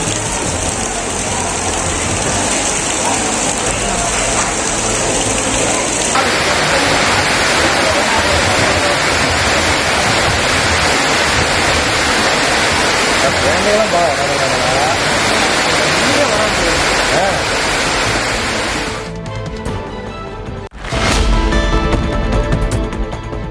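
Heavy rain pours steadily over a temple compound with rainwater pooling and flowing, a dense loud hiss that continues almost unbroken before a brief drop and a renewed burst near the end.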